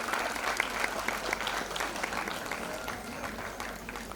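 An audience gives loud applause to welcome guests at a Maheshwari women's association silver jubilee programme, steady massed clapping that stays even and unbroken throughout.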